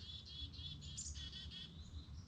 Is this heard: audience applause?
no